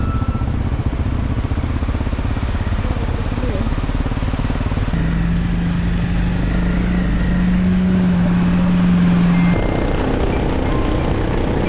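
A motorcycle rides out from Pokhara, Nepal, its engine a steady close drone under rushing wind, with a brief sustained tone partway through and no speech.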